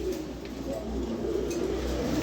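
A pair of white Lahori pigeons coo steadily and close by, a low continuous murmuring with soft overlapping calls throughout.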